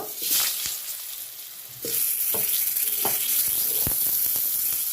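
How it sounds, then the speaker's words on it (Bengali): Potatoes fry in oil left over from frying brinjal, a close, steady sizzle that surges louder partway through, punctuated by scraping stir strokes and light clinks of a utensil. "ওই তেলেই আমি ওই তেলেই আমি আলুগুলো ভেজে নেব"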